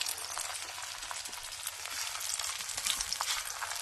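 Methi paratha frying in a pan on a lit wood or clay stove, giving a dense, continuous close sizzle and crackle with no talk over it.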